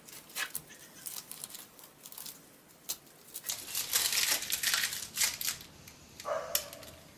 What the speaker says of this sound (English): So go ahead and show you how to peel the excess off.